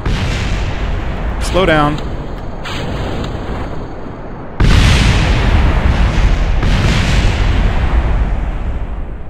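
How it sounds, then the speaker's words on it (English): Rocket explosions in the video game Kerbal Space Program: a sustained, loud rumbling blast that surges sharply halfway through and stays dense, with a brief voice speaking over the early part. "That was lots of explosions."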